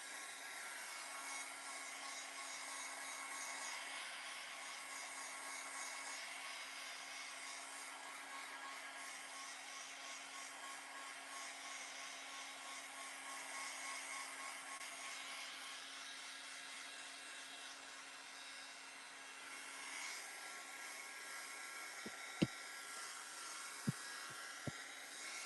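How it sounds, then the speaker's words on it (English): Steady broadband blowing roar of a heat gun drying wet paint on a mixed media artwork, continuous and fairly loud for most of the span, with a faint steady hum, then a few sharp clicks or taps near the end. "Don't get too close to the heat gun"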